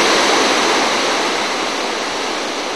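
Tat Pha Suam waterfall in Laos pours in a dense, steady roar of falling water, loud and unbroken, with no voices.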